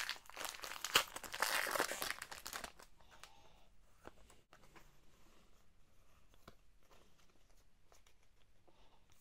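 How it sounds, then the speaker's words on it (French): Loud crinkling rip of a Pokémon Palkia booster pack being torn open up close for the first few seconds, then faint intermittent rustling of foil and cards, with no voices. "Et on va ouvrir le deuxième booster de Palkia."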